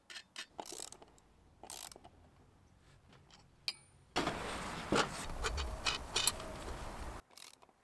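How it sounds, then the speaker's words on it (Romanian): Bolts being tightened while wheels are mounted onto the rims of a Progarde tiller, heard as scattered mechanical clicks and ratchet-like ticks, then a denser stretch of rattling metallic work partway through, close and moderately loud. "Strângem bine toate șuruburile."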